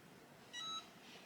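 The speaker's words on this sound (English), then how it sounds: "And there's the timer on the press, letting me know it's done." A Cricut EasyPress 3 heat press timer gives a quick cluster of short, high electronic beeps, faint against quiet room noise, signalling the pressing cycle is finished.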